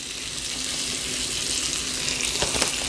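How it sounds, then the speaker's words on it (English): Potatoes frying in a pan, a steady close crackle and sizzle with a few sharper pops near the end, no talking. "we're going to drop them into the pan. And while they're frying out"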